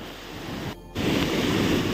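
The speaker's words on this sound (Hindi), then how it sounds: "ये देख सकते हो वाटरफॉल।" Loud, steady rushing roar of a hidden waterfall near Darjeeling Road, broad and continuous with wind buffeting the microphone and one brief dip in the middle.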